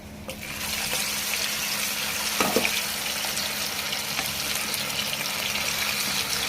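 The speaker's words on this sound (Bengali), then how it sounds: "বেবিকর্নগুলোকে ফ্রাই করে নিচ্ছে" Baby corn frying in a pan at home, a steady broadband hiss with crackling sizzle that runs evenly throughout, moderately loud and close, with no talking.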